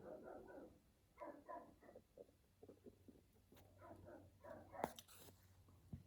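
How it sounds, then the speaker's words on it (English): A dog barking outdoors, heard faintly at a distance as short, muffled barks and yips in irregular bursts over a quiet room. "If you hear her bark outside"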